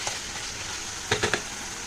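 Potatoes fry with spices in a pan, a soft steady sizzle running throughout with a few sharper crackles and stirring clatters near the end.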